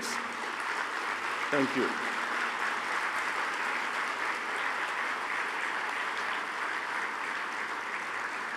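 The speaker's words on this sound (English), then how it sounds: "Could you please get up and applaud your parents?" A large convocation audience at IIM Kozhikode rises and applauds parents with steady, dense clapping that fills the whole stretch at an even level, while a voice briefly offers thanks over it.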